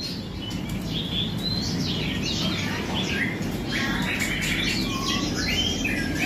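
Caged red-whiskered bulbuls chirp busily, many quick bright tweets and warbling calls overlapping at close range over a steady background hiss, without a pause.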